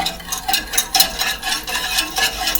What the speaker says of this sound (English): You're going to keep mixing it while you put the cornmeal into the pot.